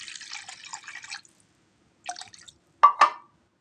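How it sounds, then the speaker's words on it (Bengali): Water is poured into a small fish curry mixture in short bursts: a soft trickle, a pause, then a few brief splashy drips close by. "এরপর আমি এখানে পানি অ্যাড করে দেব।"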